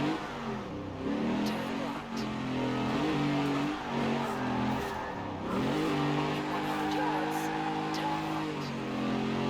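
Mercury Cougar Eliminator in Forza Horizon 4 heard from the cockpit, a loud 70s V8 engine droning and revving up and down through gear changes, with a person talking over it at times.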